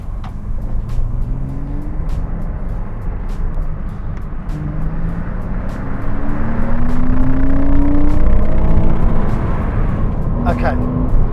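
A car accelerates hard at full throttle from inside the cabin, its low road roar and rising whine swelling partway through, with a person talking over the noise.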